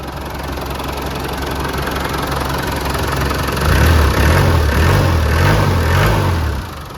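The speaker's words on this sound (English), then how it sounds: "Real solid running motor, and no smoke out of the tailpipe." Rebuilt 300Tdi diesel engine in a 1994 Land Rover Defender 110 ex-MOD running after start-up, a loud close idle that rises into a few rhythmic surging revs before settling, with no voices.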